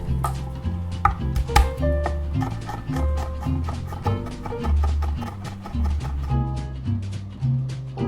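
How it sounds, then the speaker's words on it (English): A knife minces garlic cloves on a cutting board in quick, rhythmic, knocking chops, close and fairly loud, repeating steadily with short pauses between bursts. "Mince 3 garlic cloves"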